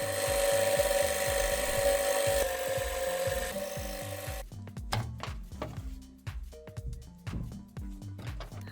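A sewing machine quilts cotton insulation onto linen fabric, its rapid rhythmic needle clatter running steadily before giving way to slower, uneven stitching knocks and clicks, heard without talk.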